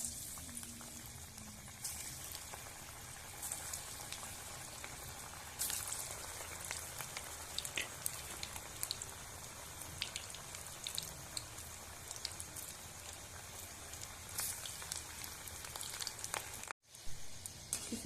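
Drumstick flower fritters sizzling in hot oil, a steady, dense crackle and bubbling close by, fairly soft and continuous with no talking.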